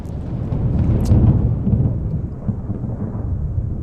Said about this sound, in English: The thunder's loud.